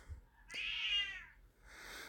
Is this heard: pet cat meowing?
yes